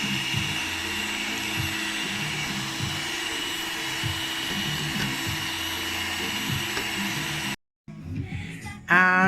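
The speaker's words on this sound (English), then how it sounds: "So you're gonna start whisking until it's all creamy and almost double in size" An electric mixer whisking cream runs as a steady, loud motor whine for several seconds, then cuts out briefly before restarting with a rising pitch as the speed increases.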